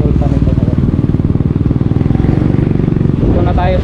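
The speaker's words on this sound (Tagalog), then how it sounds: "maingay itong aking motor eh, yung tambutso niya" A Suzuki Smash 115 motorcycle with a loud exhaust rides along, its engine pulsing in a steady, rapid, close-up throb throughout, with wind rush and some clatter.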